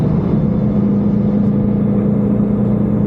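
A truck's exhaust brake drones steadily as it descends a compact-ice hill in low gear, a loud, close, unbroken engine rumble without any speech.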